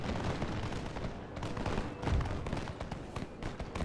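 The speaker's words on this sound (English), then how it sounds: "Okay, we are taking a little bit of fire back." Musket volleys crackle and pop without pause during a Total War: Empire battle between French colonial militia and pirates. The dense, loud gunfire rolls on steadily with heavier thumps mixed in.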